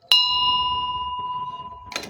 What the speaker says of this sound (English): This man gave me this bell.